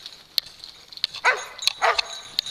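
Several quick dog barks and yips, sharp and fairly close, scattered over a faint steady background hiss.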